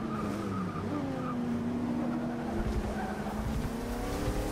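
A 1990 Chevrolet Camaro IROC-Z's racing engine in Forza Motorsport 6 drones at steady high revs, with pitch rising and falling slightly and faint tire squeal over continuous loud engine noise.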